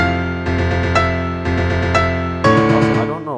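Sustained piano chords from the Ark Genesis theme, played higher with a middle note added, ringing in three steady repeated groups before a final brighter chord, loud and close.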